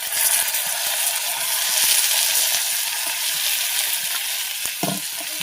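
Tomato pieces frying with onions in a pan for a village-style egg curry, a loud steady sizzle with scattered crackles and a few stirring scrapes, close and continuous.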